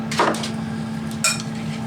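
A spoon stirs a thick, cooling mixture of potato skins, bacon, cheese and four-pepper black pepper blend in a bowl, giving two short scraping clinks against the bowl over a faint steady hum.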